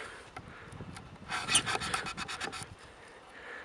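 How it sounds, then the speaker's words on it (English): A titanium knife with a tungsten carbide edge saws a V notch into wood, giving a close burst of harsh rasping strokes for about a second in the middle, with quieter handling before and after. "And saw a little V notch out of this."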